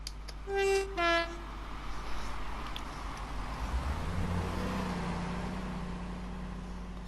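A Class 166 diesel train on the East Coastway line in Train Sim World 2 sounds two short horn blasts, then rumbles steadily past as a sustained low roar.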